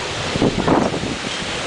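Hurricane Paloma winds roaring through a flooded Cayman backyard, a steady broadband rush of gusting wind and buffeting against the microphone, with trees thrashing and water surging, loud and continuous with no voices.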